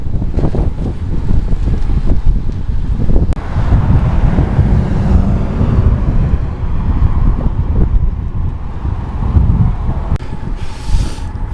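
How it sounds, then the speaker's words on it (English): Steady wind roar buffets the microphone during a cloudy, headwind bicycle ride through downtown Terre Haute on a cross-Indiana tour, a constant loud rush with gusty low-end swells and no talk. "Got a headwind."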